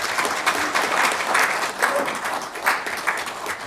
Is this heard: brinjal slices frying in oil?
no